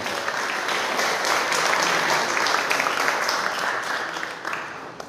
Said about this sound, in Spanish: Le damos un fuerte aplauso al secretario del Honorable Ayuntamiento.